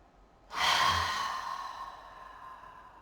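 A single deep breath during a yoga exercise rises suddenly from quiet, close and clear, then trails off slowly over a few seconds with no talking.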